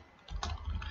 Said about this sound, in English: So let me type print hello